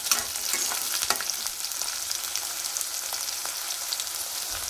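Onions sautéing in a pan for tomato curry, cooked until brown, give off a steady, moderately loud sizzle with occasional spatula scrapes and clicks from stirring throughout.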